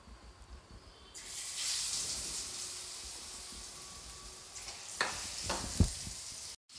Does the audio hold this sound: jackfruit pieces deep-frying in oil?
yes